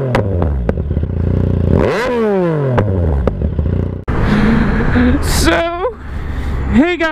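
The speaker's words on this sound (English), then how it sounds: "I don't know if you can hear me over this exhaust" A motorcycle exhaust roars close up while riding, rising in repeated revving sweeps through the gears with clattering mechanical noise and a brief break midway.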